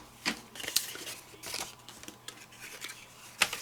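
Scissors cutting colored paper for scrapbooking, a few quiet, close snips and crisp paper rustles spaced irregularly, with soft handling noise between cuts.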